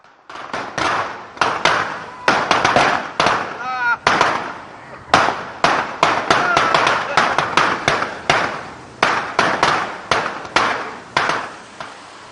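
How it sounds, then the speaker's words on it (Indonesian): Firecrackers set off in a mosque minaret in Subang Regency, West Java, giving a long run of sharp, loud bangs in uneven bursts, some clustered rapidly, with brief gaps between volleys. "calon anggota legislatif DPRD Kabupaten Subang menyalakan petasan di menara masjid"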